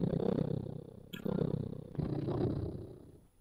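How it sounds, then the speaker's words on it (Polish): A low, rumbling purr from the video game Five Nights at Freddy's Help Wanted 2, pulsing in steady waves with a brief break in the middle, close and moderately loud. "Co to tak mi tu mruczy?"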